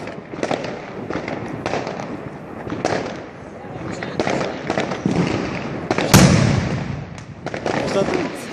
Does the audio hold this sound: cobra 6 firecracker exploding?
yes